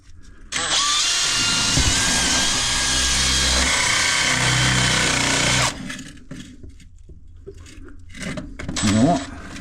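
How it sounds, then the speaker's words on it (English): An electric drill bores through material while working on a blocked drain, running loud and steady for about five seconds before cutting off, followed by quieter handling noise and a brief whirring burst near the end. "Where's the old drill?"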